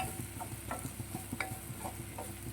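Breadfruit pieces sautéing in oil for a masala curry, a soft continuous sizzle broken by light clicks and scrapes of stirring, quiet and close.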